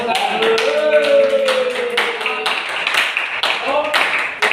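Audience clapping during a microteaching class session, a series of sharp claps rising and falling over several seconds, with people talking over it throughout.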